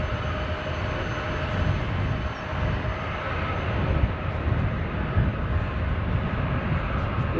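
Jet airliners at Reagan National Airport in Washington, D.C., rumble steadily in a broad, continuous roar. The sound swells slightly in places, like aircraft engines during takeoff and landing heard from a nearby spot.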